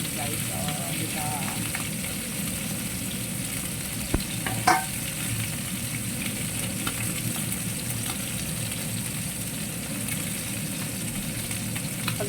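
Fish deep-frying in hot oil for lunch, the head crisping, giving a steady close sizzle and crackle throughout with a couple of brief louder pops midway.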